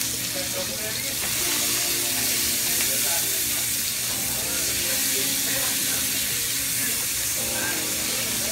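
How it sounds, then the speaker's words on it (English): Pork chops browning in a pan for dinner, a steady, close, loud hiss and crackle of frying fat that swells slightly and holds evenly throughout. "be careful when you brown your pork chops that you do not burn your pan"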